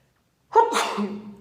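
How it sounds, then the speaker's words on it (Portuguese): After a moment of silence, a woman lets out a single sharp sneeze close to the microphone, followed by a brief trailing breath. "Eu quero espirrar."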